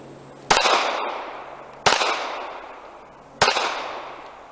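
Three sharp pistol shots from an S&W Bodyguard 380, spaced about a second and a half apart, each loud crack followed by a trailing echo at an outdoor range.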